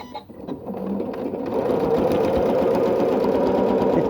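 A sewing machine starts up and settles into a steady, loud run of rapid stitching while tape is sewn down on a quilted tote bag made from squares, with a little handling noise before the motor builds.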